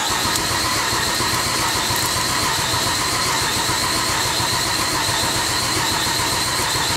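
2005 Acura MDX engine that won't stay running, cranking on the starter with the throttle held wide open during a compression test, a steady rhythmic loud churn continuing throughout with no speech.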